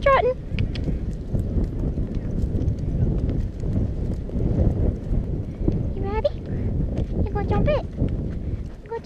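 A horse's hooves clip-clop steadily and close up during a cross-country hunter pace ride, with a rapid, uneven rhythm of hoofbeats continuing throughout.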